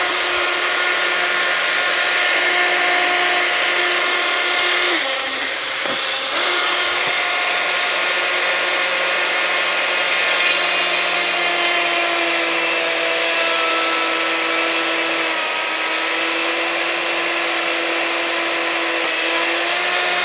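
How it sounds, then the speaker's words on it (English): A Ryobi ONE+ HP PBLRT01 18V brushless cordless rotary tool spins at about 25,000 RPM while drilling into a piece of walnut, a loud, steady high-pitched whine that holds for the whole stretch with slight dips in pitch. "let's check out this piece of walnut, see what it takes to drill into this thing"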